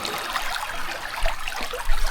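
Small creek flowing, a steady close wash of trickling, rushing water with no talk over it.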